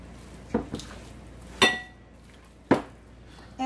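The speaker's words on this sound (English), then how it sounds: "I'm just gonna stir my meat around." Meat being stirred in a pan while cooking beef and broccoli with noodles, with four sharp utensil clinks against the pan spread a second apart over a low steady background.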